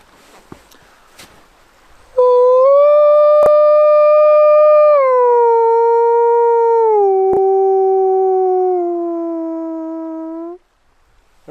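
A human caller imitates a male wolf's locator howl, a single long, loud, tonal howl that holds steady then slides lower and fades, close and alone after a few faint handling noises.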